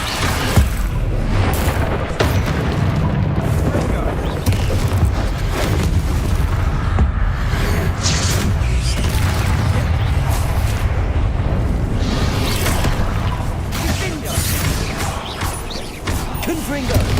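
Spell explosions in the video game Hogwarts Legacy: a dense, continuous barrage of booms, crashes and rumbling blasts that stays loud throughout, with a voice calling out over the action.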